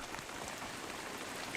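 Steady rain pours down onto a picnic table, a dense continuous hiss of drops drumming on the surface, close and unbroken with no voices.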